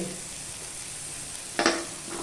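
Green chillies and curry leaves dropped into golden fried onions in a hot pan, a steady close sizzle with a brief burst of spattering near the end, no talk.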